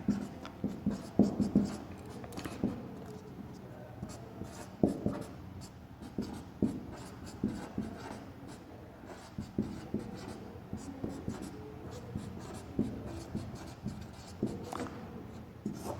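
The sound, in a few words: writing on a board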